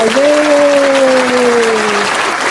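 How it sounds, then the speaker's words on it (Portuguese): Applause for Raíssa, a guest on a Portuguese-language book chat about Dom Casmurro, loud and steady for about two seconds, with a sustained tonal hum sliding slightly down beneath it. "Então eu trouxe aqui Raíssa, uma salva de palmas."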